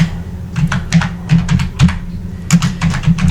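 Fingers type on a computer keyboard, a quick irregular run of close, crisp key clicks and thuds with small pauses between bursts.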